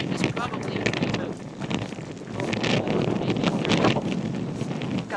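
Strong gusting wind buffets the microphone at a boat dock with flags flapping, a steady broadband roar rising and falling in loudness throughout, with brief speech mixed in.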